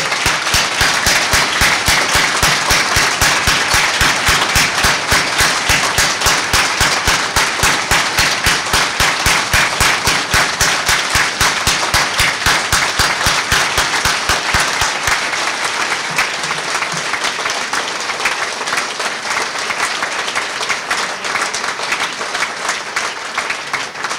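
Long, loud, dense applause fills a reception hall as the audience gives a standing ovation to the town's departing mayor after eight years in office, sustained and steady before thinning slightly toward the end.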